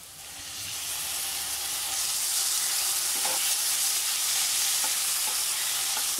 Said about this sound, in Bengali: চিংড়িগুলো একটু ভেজে নিচ্ছি।